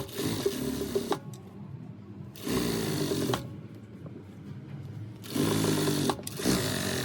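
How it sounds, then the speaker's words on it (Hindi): A sewing machine stitches fabric for a farshi salwar in three separate runs of steady, fast mechanical whirring, each lasting about a second, with quiet handling pauses between them. "मैं इधर उल्टी साइड से इसकी सिलाई लगाऊंगी"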